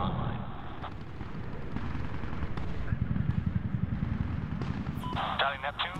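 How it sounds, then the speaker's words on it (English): Hellfire missiles fired from an attack aircraft in a Medal of Honor video game: a dense, rumbling run of firing and blasts with rapid crackling bursts, loud and continuous, while game radio chatter runs over it. "Hellfire missiles are online."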